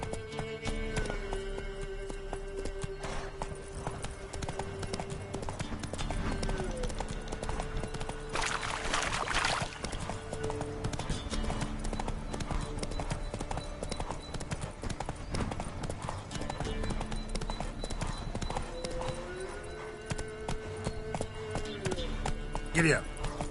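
Roach, a horse in The Witcher 3, gallops with a rapid, steady clip-clop of hooves over game music, with voices talking above the hoofbeats throughout.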